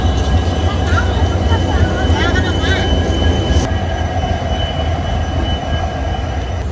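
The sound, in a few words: Vasco Da Gama Express train running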